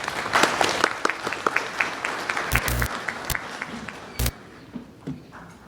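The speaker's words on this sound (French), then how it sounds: "Sous vos applaudissements, s'il vous plaît." At the opening of a law fair, audience members clap in a sparse, fading round of applause, with a few loud knocks and thumps close by near the end.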